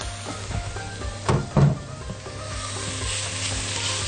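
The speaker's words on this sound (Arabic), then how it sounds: "خلاص كده البصله دبلت هننزل اللحمه" Minced meat frying in ghee with wilted onions for a spinach tagine, with a steady close sizzle and two quick stirring scrapes through the pan, no talking.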